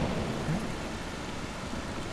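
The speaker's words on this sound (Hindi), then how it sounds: "कैसी भयंकर बरसात हो रही है" Heavy rain pours steadily and close up with a dense, even roar, and a low rumble of thunder sits underneath it with no voices present.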